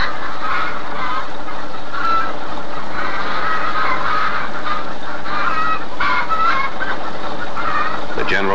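A dense flock of broiler chickens clucks on a large poultry farm outside Toronto, a loud, steady chorus of overlapping calls that carries unbroken from start to finish.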